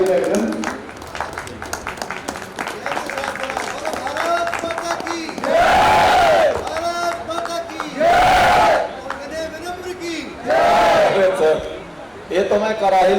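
A crowd applauds the poet Vinay Vinamra at a patriotic Hindi poetry recital. Clapping runs throughout, with several loud bursts of shouting and cheering rising above it, with no speech on top.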